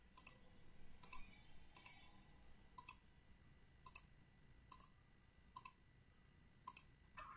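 Mouse clicks while Alt-clicking to place multiple cursors in VS Code: about nine quiet, crisp clicks spaced roughly a second apart, some in quick doubles, over a faint hum with no talking.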